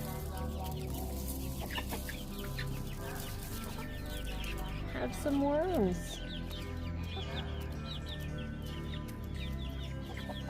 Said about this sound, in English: Hello, you chickens.